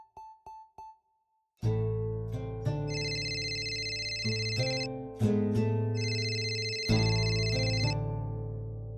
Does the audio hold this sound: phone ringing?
yes